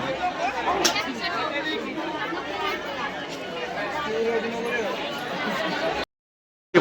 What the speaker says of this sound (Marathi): पोचलो पण भरपूर गर्दी आहे.